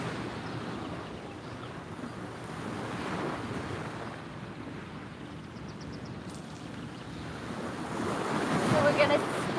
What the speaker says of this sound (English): There's waves.